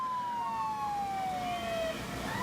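An Alberta Health Services ambulance siren wails steadily during a parade, its tone gliding slowly downward, loud and close, with no talk over it.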